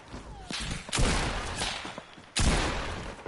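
Gunfire from an enemy shooting at the player in a video game, with three loud bursts of shots at roughly one-second intervals and a sustained rumble between them.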